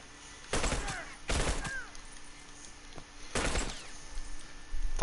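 Shotgun fire in The Last of Us online multiplayer, several sharp, loud blasts spaced apart against a quiet background, with a fainter shot or two between them.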